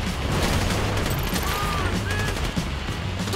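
Dense gunfire from a shootout in GTA V, with rapid bursts and repeated shots layered into a continuous loud clatter, heavy low thumps beneath.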